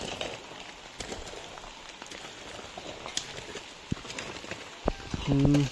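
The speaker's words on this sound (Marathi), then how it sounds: "पाऊस रिमझिम रिमझिम रिमझिम चालूच आहे" Light, steady drizzle in Konkan patters softly throughout, a faint continuous hiss with scattered drops, plus a few louder knocks near the end.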